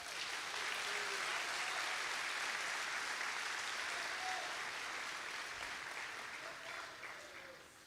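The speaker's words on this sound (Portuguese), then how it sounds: "Você pode aplaudir a Jesus." A church congregation at an evangelical service applauding, a broad, even wash of many hands clapping that holds steady and fades out slightly at the end, heard from a distance and fairly quiet.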